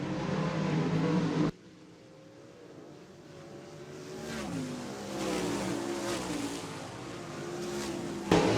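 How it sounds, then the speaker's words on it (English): Winged 360 sprint cars race around the dirt oval at Wagner Speedway, their engines roaring loudly and sweeping past in waves. The engine note rises and falls through the lap. "gives the spot to Dover down the backstretch on lap number 2"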